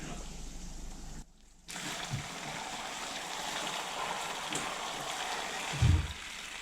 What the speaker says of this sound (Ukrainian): Заливаю помідори окропом.